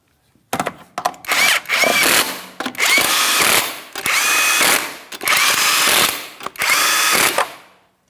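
A power tool spins and tightens the lug nuts on a 2007-2014 Ford Edge front wheel after a hub replacement, giving five loud, close whirring bursts separated by short pauses.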